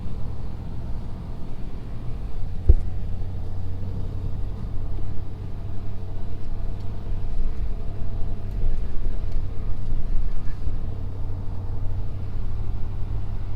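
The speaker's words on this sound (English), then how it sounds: "these tires are just digging in and just pulling it up" A 2020 Ford Super Duty truck climbs a snow-covered mountain road, its engine giving a steady, loud low rumble that drones on throughout with one sharp knock partway through.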